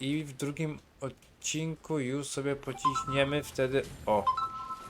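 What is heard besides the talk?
mobile phone ringing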